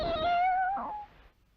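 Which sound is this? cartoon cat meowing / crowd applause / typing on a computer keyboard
cartoon cat meowing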